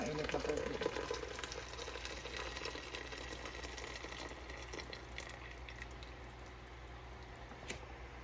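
Broth for lomi, with carrots and cabbage added, boils hard in a pot, giving a soft, continuous bubbling and sizzling heard close but faint.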